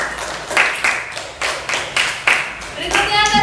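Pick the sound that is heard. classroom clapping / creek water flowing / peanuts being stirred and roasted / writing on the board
classroom clapping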